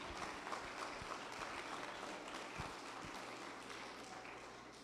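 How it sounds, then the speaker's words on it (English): Steady applause from an audience at a Berkeley Academy Model United Nations event greets a peace and conflict studies professor, a dense continuous patter of many hands at moderate distance with a few sharper claps standing out. "Please give him a big round of applause."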